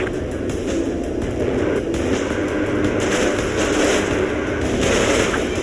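Sustained heavy gunfire from a jet fighter's cannon during an aerial dogfight in a combat flight game, a loud continuous roar of rapid shots blended with engine rumble, with no voices.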